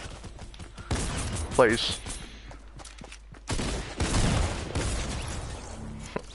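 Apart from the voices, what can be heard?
random gunshots in a video game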